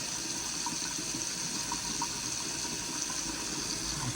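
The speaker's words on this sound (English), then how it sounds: "All right, successfully got the water running." Water running steadily from a tap after the water lines of a Maine cabin were reopened for the season, an even close hiss with no talk.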